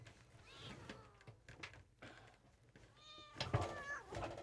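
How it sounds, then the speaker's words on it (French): A cat meows several times in a home kitchen, with rising and falling cries near the middle and a louder, sharper meow toward the end over faint background noise. "Là, t'étouffes le chat."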